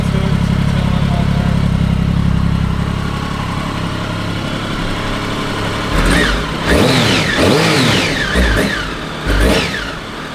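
A 2006 Triumph Sprint ST 1050 motorcycle engine runs steadily close by, with a low, even idle rumble that grows into louder, rougher pulses in the second half.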